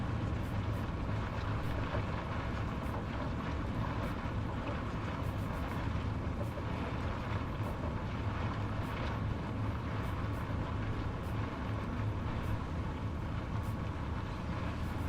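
A DHC-4 Caribou taxis across a field in Microsoft Flight Simulator, its engines giving a steady, loud, even droning rumble throughout with no talking over it.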